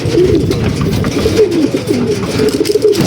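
Soft, low cooing of a pigeon or dove, repeated several times in a rolling rhythm, close by over a muffled background.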